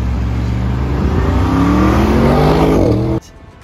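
A 2021 Audi RS6 C8 Black Edition with a twin-turbo V8 revving loudly and close, the engine note climbing steadily for about three seconds before cutting off abruptly.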